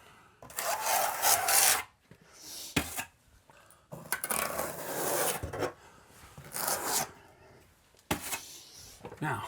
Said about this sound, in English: Hold the material and then you can scrape it.